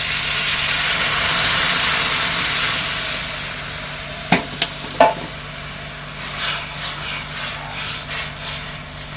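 Onion, coconut, garlic and ginger paste hits hot oil in a tempering, giving a loud hissing sizzle that slowly fades, broken by a couple of sharp clinks and later stirring scrapes.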